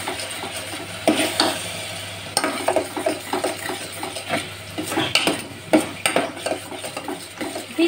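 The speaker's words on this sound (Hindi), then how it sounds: "धीमी आंच में चलाते चलाते इसको पका लेना है" Egg yolk halwa with custard powder and milk is stirred in a pan over a low flame, producing close scraping and clinking of the spoon against metal in an irregular rhythm over a faint sizzle.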